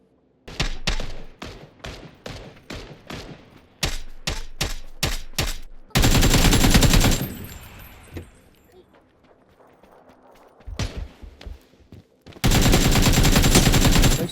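Gunfire from a shooting video game: rapid bursts of individual shots early on, then dense sustained automatic fire, a quieter gap, and more sustained fire toward the end, all loud and close.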